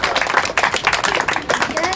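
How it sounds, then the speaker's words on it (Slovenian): A brief patter of outdoor applause for a ski jumper opening a renovated ski jump, scattered claps under a speaking voice and crowd chatter. "En aplavz."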